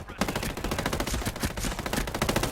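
Automatic gunfire rattles in dense, rapid bursts during a Ghost Recon Breakpoint match, loud and close, with barely any pause between shots across the whole stretch.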